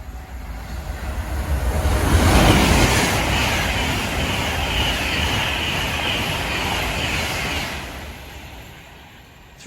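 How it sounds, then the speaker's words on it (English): An Avanti West Coast train roars through a station, swelling to a loud rushing rumble with a high metallic whine, holding steady, then fading away near the end. "Passing through now is an Avanti West Coast service heading to some far and distant land."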